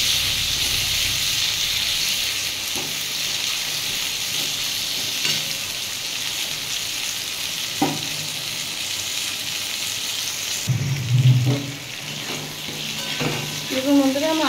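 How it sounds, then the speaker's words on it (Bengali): Raw mango pieces fry with salt and turmeric in a pan, giving a constant loud sizzle with occasional clinks and scrapes from stirring. "নুন দেবো, দিয়ে একটু ভালো করে ভেজে নেবো।"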